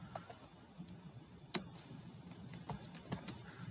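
Keys clacking on a computer keyboard during a command-line session, faint and irregular light taps with a few sharper louder strokes, no voices.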